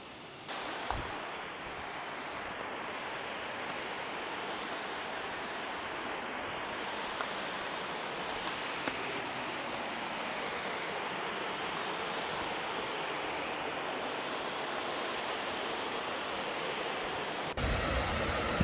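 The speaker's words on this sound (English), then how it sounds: "all the water flowing from this waterfall is just going to the bottom in that direction" Edith Falls waterfall in Australia, a steady broadband roar of falling water among rocks, continuous and fairly loud with no break across the whole stretch.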